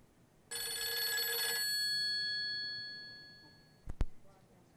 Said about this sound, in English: I should get a phone call.